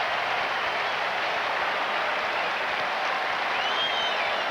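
A large baseball crowd at the SkyDome in Toronto during the 1991 ALCS Game 5, Twins at Blue Jays, roaring and cheering in a loud, steady, dense wash of noise with no pauses.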